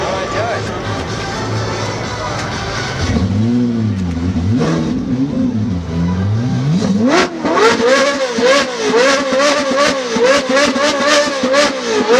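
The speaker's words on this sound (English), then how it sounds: "can you rev it up for us for a little bit?" A supercar at the Gold Rush Rally festival in Boston idles low, then revs hard in a string of sharp, loud blips that climb and fall repeatedly, with people talking nearby.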